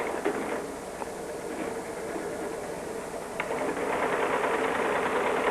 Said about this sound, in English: the tape will run into the flexor writer, and the printing of the codes on the tape now takes place